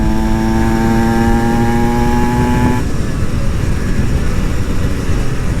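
An Aprilia SX-125 two-stroke supermoto engine drones steadily and loudly at a high, buzzing pitch, with a smooth held tone that suddenly drops into a rougher, lower rumble partway through, with no voices.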